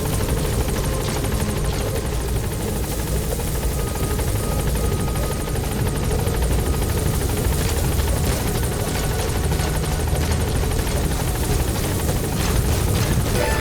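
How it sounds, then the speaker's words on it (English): A video game helicopter's rotor thrums steadily and loudly nearby, a constant chopping drone that never fades, with no talking. "Support helicopter has arrived."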